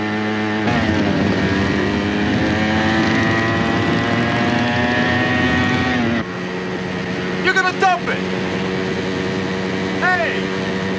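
A motorbike engine revs loudly and pulls away nearby, its steady drone running throughout while someone shouts over it.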